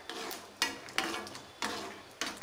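Cashews being lightly fried in a pan for laddus made from leftover chapatis, heard as a soft crackle cut by several sharp stirring scrapes and clinks of a spoon against the pan, close up, with no voices.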